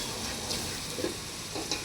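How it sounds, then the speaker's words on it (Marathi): Onions frying in a pan for a home mutton curry, a soft continuous sizzle with faint crackles, quiet and close. "कांदा चांगला पण पहिलं भाजून घेऊया."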